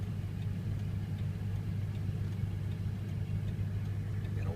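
A 2003 Ford F250 diesel with a manual 4x4 setup idles steadily, giving a continuous low, even rumble with a smooth hum that holds without change from start to finish.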